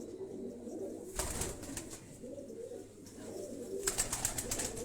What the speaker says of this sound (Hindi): एक छत वाले, छत वाले कबूतर।